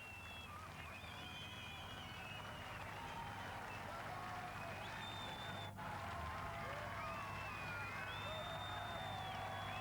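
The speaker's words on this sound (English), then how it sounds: "here the crowds really start to swell" A large crowd outside the King's Hall swells with cheering and chanting, a dense continuous roar with whistles and shouts rising above it, steady and fairly close throughout.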